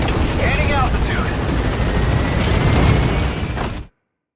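Pequod, a helicopter in Metal Gear Solid V: The Phantom Pain, gains altitude with a loud, dense roar and rumble. Brief tonal chirps sound over it before it cuts off abruptly near the end.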